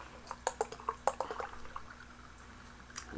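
Dark Arbor Mafka beer, a 7% ABV brew from Michigan, being poured into a glass: soft liquid splashes and gurgles, with a cluster of sharper drips and glugs early on that fade to a quieter fizz.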